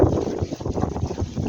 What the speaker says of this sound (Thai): ลม